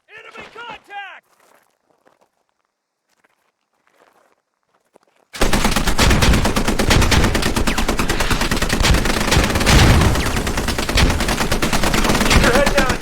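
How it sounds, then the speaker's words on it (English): Dense sustained automatic gunfire in a Squad live fire exercise, loud and continuous rapid bursts erupting abruptly after a brief shout and near silence. "You will be stressed, and this is a live fire exercise."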